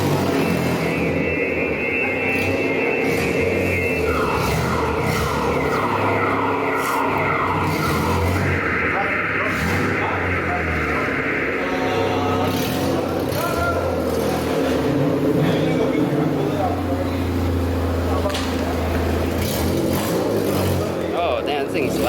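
Car engines revving loudly in a parking garage, with roaring acceleration and tire squeals echoing off the concrete while people talk over the noise.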